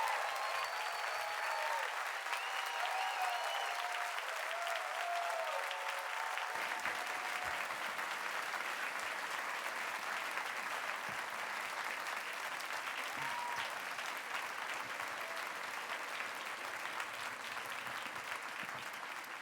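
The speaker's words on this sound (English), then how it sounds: "And let's give these social innovators a hearty round of applause" Hearty theater audience applause for social innovators, a broad sustained wave of clapping with a few early whoops and voices, holding steady and full for the whole stretch.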